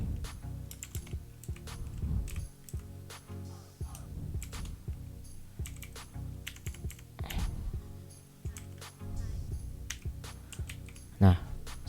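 Code being typed on a computer keyboard during an HTML5 tutorial gives quiet, uneven clusters of key clicks with a few louder taps, heard under someone talking.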